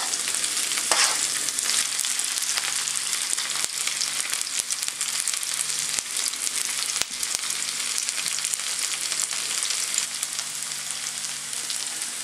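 Steady, loud sizzling of onions frying in a pan, a continuous crackling hiss with occasional stirring scrapes, no voices.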